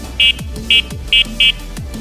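Four short, high-pitched electronic horn beeps from a Fiido Q1 electric bike in quick succession, sharp and close, over a low whirring background.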